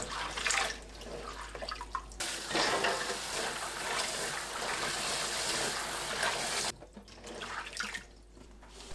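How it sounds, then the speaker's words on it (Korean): Garlic scapes are rinsed in water after a vinegar soak, with continuous close splashing and sloshing of water and the rustle of stalks being stirred. "5분 후 건져서 물에 헹굽니다."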